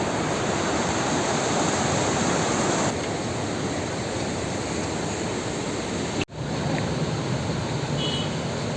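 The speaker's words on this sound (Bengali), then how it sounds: "এই হচ্ছে ব্যারেজ তিলপাড়া ব্যারেজ জল বেরোচ্ছে এখান থেকে" Water gushes out through the Tilpara Barrage, a loud, unbroken broadband roar of rushing flow close by, briefly cut by a sharp dropout about two-thirds through before the roar resumes; no talking.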